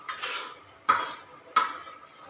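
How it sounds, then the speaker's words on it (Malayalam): Chicken pieces go into a hot cooking pan in a home kitchen in Kerala, giving three sharp metallic clatters about a second apart, each fading into a short rustling scrape, close and fairly quiet, with no voices. "ഇപ്പൊ ചിക്കൻ ഇടുന്നുണ്ട്"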